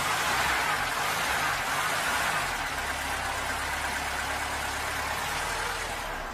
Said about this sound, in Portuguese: Olha o motor.